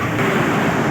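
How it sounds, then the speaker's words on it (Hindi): A raging mountain river rushes beside a jeep track on the way to Ratti Gali Lake, a loud, steady broadband roar of churning water filling the whole moment without a break. "ये खौफनाक दरिया चल रहा है"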